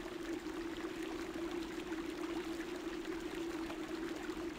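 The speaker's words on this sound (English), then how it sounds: "Can't hear anymore, but there is a lot of water noise." Water flowing steadily in a Thief fan mission, The Secret Way: a continuous, fairly soft rush like a pouring stream, unbroken and even throughout with no voices.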